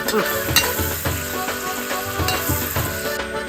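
Onions sautéing with salt and turmeric in a pan, a steady close sizzle with scraping stirs and a few knocks, continuous throughout with no talking.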